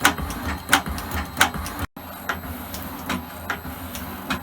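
An Elliot 10M metal shaper takes a gentle final pass across a steel block, its ram strokes giving evenly spaced clunks about every second, with a continuous mechanical hum beneath and a very brief dropout partway through.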